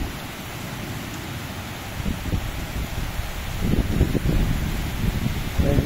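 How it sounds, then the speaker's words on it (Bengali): Heavy pouring rain in Dhaka produces a constant dense wash of noise that thickens into louder, rougher drumming partway through. "দেখেন চমৎকার ভাবে কিন্তু বৃষ্টি ইয়ে হচ্ছে, প্রচুর বৃষ্টি, মুসুলধারে বৃষ্টি প্রায় ঘন্টা খানেক যাবৎ হচ্ছে এই বৃষ্টি"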